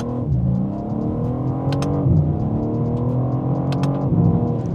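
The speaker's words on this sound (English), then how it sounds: "Immediately you can hear the noise from the Milltek exhaust." BMW M4 G82 fitted with a Milltek exhaust, driving on a road: a steady, close engine drone with rising and falling tones through the gear changes, no talking.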